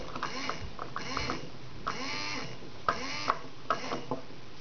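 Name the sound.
small toy electric motor from a circuit kit running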